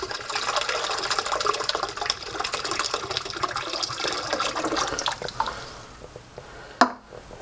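Boxer Lager from a 24oz can splashes into a sink in a steady pouring rush for several seconds, trailing off into a few drips and a sharp clunk at the end, close and fairly quiet.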